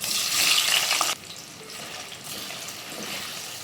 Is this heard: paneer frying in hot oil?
yes